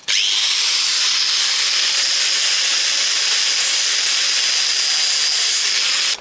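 A power tool cuts through an old Toyota jack handle scrap metal in a steady, loud, high-pitched whine that starts abruptly and runs unbroken for about six seconds before stopping.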